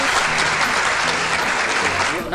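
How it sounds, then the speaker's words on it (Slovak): Sustained crowd applause, dense and fairly loud, with voices speaking over the clapping throughout. "Všichni nám tleskají"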